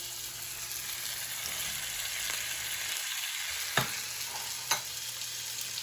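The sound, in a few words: minced garlic and red peppers frying in a pan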